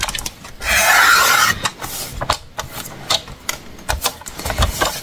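Paper being cut for the cover of an under-the-sea scrapbook album: a loud, close rasping stroke of about a second, then lighter scraping and clicking taps, with no talking.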